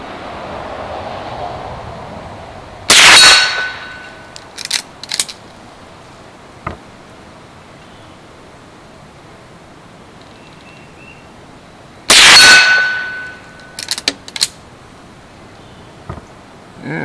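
Two rifle shots, Browning 1255 velocity ammo, each striking a hanging 1/8-inch steel long gong on a T-post hook, loud sharp cracks with bright metallic ringing that decays over a few seconds, several seconds apart outdoors.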